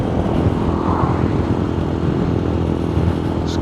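An MGB ATX-T 125 motorcycle engine runs at low revs with a steady, smooth, close drone that holds at an even loudness the whole time.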